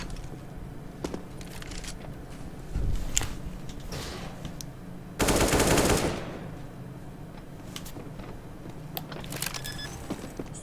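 Automatic gunfire in a video game match: a short burst of rapid shots, then a longer, louder burst a couple of seconds later, with scattered faint clicks and game sounds between and no talking.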